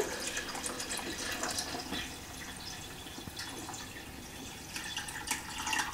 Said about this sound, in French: on va rajouter donc ces 500 ml d'eau minérale.